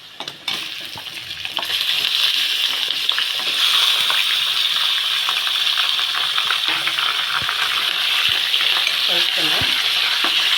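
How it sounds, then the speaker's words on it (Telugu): Chicken sizzling and frying in a pan with browned onions and curry leaves for a home-style chicken curry, a steady close crackle with occasional stirring clinks, no talking. "ఉల్లిపాయలు చూడండి బాగా వేగిపోయాయి కదా, బాగా ఫ్రై అయిపోయి. ఇందులో చికెన్ వేసేద్దాం."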